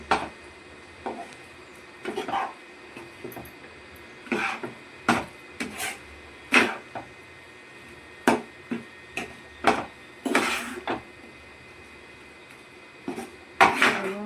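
Roasted gram (pottukadalai) halwa stirred in a pan, a series of irregular sharp clanks and scrapes of a utensil against the pan, spaced out over quiet gaps, close by.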